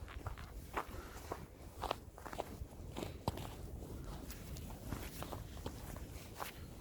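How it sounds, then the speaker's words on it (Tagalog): People walk through snow during a February 2021 snowstorm in the Netherlands, their footsteps crunching in a steady, uneven rhythm close by over constant wind and outdoor noise. "naglalakad yung mga tao."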